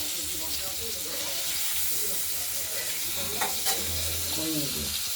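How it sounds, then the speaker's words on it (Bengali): Tomatoes sizzle steadily in a hot pan for a paneer curry with potatoes, with a constant close frying hiss and occasional stirring scrapes and clinks. "টমেটোটা আমরা ভাজা ভাজা করে নিলাম, এক থালি দিয়ে দিয়েছি টমেটো"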